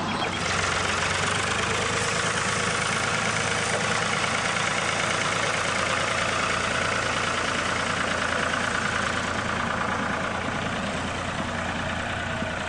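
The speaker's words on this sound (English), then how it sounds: "Once the competitors start arriving, tractors are coming in from all directions." Tractors roll in to a ploughing match field, their engines making a steady, dense rumble and idle that continues unbroken throughout with no talking.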